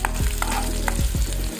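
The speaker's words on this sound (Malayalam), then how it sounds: "നമ്മുടെ ഈ ചെറിയ ഉള്ളിയും വറ്റൽ മുളകും നമ്മുടെ വെളിച്ചെണ്ണയിൽ നല്ല ബ്രൗൺ നിറത്തിൽ ഒന്ന് വറുക്കണം" Shallots and dried red chilies frying in coconut oil, a dense continuous sizzle with a few stirring scrapes, close and loud with no voices.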